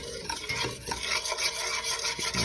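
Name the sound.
butter and flour cooking and being stirred in a pot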